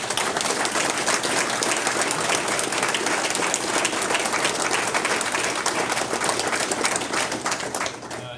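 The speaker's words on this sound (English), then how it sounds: "please indulge me in a round of applause for Sergeant Rivera" A crowd at a Marine retirement ceremony gives Sergeant Rivera a sustained round of applause, dense, even clapping filling the room at a steady level throughout.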